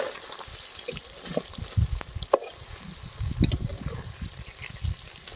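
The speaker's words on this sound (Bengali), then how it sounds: "পনিরগুলোকে আমরা ধীরে ধীরে লাল লাল করে ভেজে নেব" Paneer cubes fry slowly in a pan, giving a steady soft sizzle with small crackles, occasional stirring scrapes and a few sharper pops.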